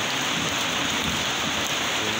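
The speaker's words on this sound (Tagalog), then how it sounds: "wala namang hangin, ulan lang talaga" Steady rain falling without wind on a gloomy overcast morning, a dense continuous patter on surfaces, even and unbroken throughout.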